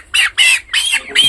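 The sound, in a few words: broiler chicken squawking while being weighed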